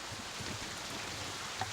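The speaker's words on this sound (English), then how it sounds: "I like the rain. Let's leave it." Soft, steady rain ambience plays as a looping sound effect in a Fantasy Grounds tabletop game session, a faint even patter with no voices.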